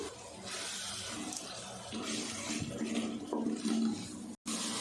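Water pours and splashes into a pan of frying spices for mixed vegetable curry, with sizzling and a rushing, bubbling texture throughout.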